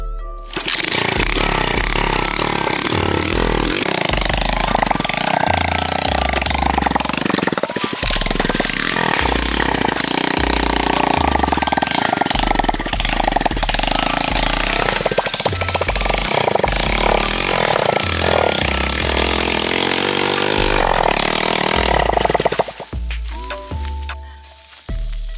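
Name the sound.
dirt bike engine redlining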